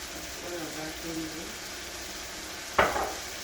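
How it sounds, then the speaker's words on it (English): Seasoning for a callaloo dish fries in a pot with a soft continuous sizzle. A voice is briefly heard, and a sharp metal clank of a utensil against the pot comes near the end. "Fry up the seasoning"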